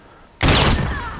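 Uzi hip-fire in the video game Call of Duty: Modern Warfare (2019) starts abruptly as a loud, close burst that rings and slowly fades over about a second.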